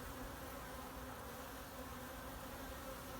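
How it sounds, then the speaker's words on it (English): Honey bees swarm busily at the front of a hive among apple trees, giving a steady, dense buzz that stays even and fairly faint throughout. "the bees are going crazy at the moment"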